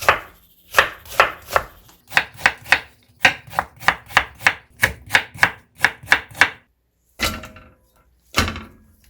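A knife chops radish on a board in a quick, regular run of about fifteen loud, close thuds, then a pause and two more separate chops.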